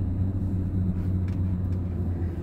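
Steady low rumble of a car driving on a cold day, heard from inside the cabin, continuous and fairly loud with no talking.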